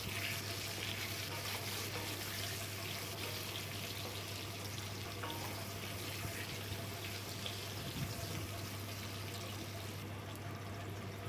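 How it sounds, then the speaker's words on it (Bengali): Pumpkin pieces fry in oil with five-spice tempering, turmeric and salt, giving a soft, steady sizzle with occasional stirring scrapes under a low constant hum. "হলুদ দিয়ে আমি কুমড়োটা ভেজে নেব।"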